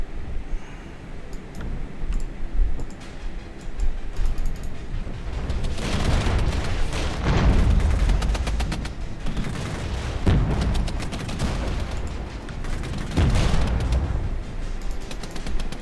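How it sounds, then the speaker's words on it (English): Artillery barrage in the Regiments real-time tactics game, a sustained rumble of explosions and gunfire with several heavy booming impacts rising out of the din, loud and continuous. "Drop an artillery barrage in front of the town"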